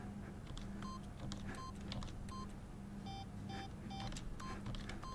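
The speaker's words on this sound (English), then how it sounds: "Stanley began entering random codes into the keypad" Keypad buttons pressed one after another in The Stanley Parable, a run of short electronic tones, each a clear beep at a differing pitch, tapped in quick irregular bursts over a steady low office hum.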